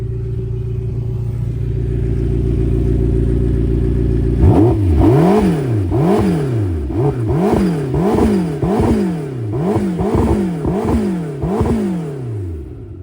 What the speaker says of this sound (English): we're gonna do the old lean out the car and give it some revs